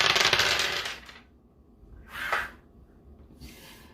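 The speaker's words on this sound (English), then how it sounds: "let's roll this dice" Dice rolled during an oracle card reading give a long, close clattering rattle, then two shorter, softer rattles as they settle, with no voices.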